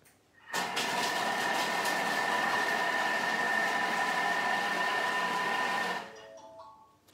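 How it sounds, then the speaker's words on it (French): Food processor mixing diced ham cubes for an Easter pâté: a steady, moderately loud motor whir that starts abruptly, runs about five seconds at one pitch, then cuts off and winds down. "Et là, je vais mixer 5 secondes, vitesse 5."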